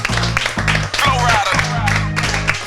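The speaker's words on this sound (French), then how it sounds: "Applaudissements pour les 3 candidats de cet après-midi" Studio audience applauding three contestants on an afternoon game show, steady clapping throughout with a voice speaking over it.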